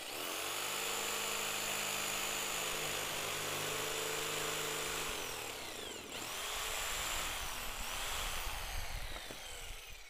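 A jigsaw cuts a wooden board, a loud continuous buzzing whine with a steady motor tone that shifts pitch partway through as the blade works along the wood, alone without talk.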